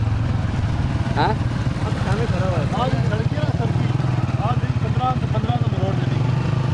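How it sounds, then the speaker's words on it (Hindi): A motorcycle engine drones steadily and close up on a ride in the rain near a fort, with people talking over it. "ये मोटरसाइकिल अभी आपको चन्नर और मोहम्मद साहब चला रहे हैं"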